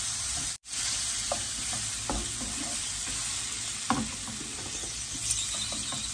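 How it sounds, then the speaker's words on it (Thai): Shrimp stir-fried with curry powder in a pan, with steady close sizzling and frying hiss throughout and occasional scraping clinks of the spatula, no voices. "เอากุ้งไปผัดกับผงกะหรี่นะเพื่อน เรียกว่ากุ้งผัดผงกะหรี่"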